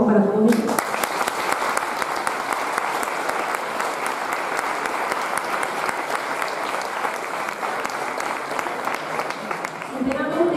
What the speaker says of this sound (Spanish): Un aplauso, por favor, para todos ellos.